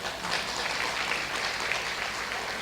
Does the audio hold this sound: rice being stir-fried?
no